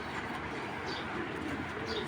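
Soft cooing from pigeons blends into a dense, hissy background, faint and continuous, with a couple of thin chirps and no talking.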